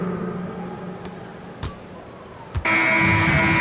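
A loud, sustained electronic buzzer in the NBA 2K25 basketball video game cuts in near the end and holds steady, after a stretch of crowd and arena noise broken by a couple of short sharp clicks.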